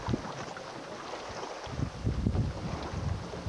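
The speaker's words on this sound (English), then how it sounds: "It's a windy day." Gusty wind buffets the microphone on a breezy fishing trip near a lakeside lodge in The Pas, Manitoba, a steady broadband rush with stronger surges toward the end and no one talking.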